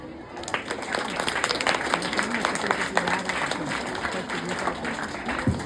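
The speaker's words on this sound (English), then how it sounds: "let us welcome him with a big claps." A crowd applauds continuously, many hands clapping in a dense, steady patter that carries on for several seconds.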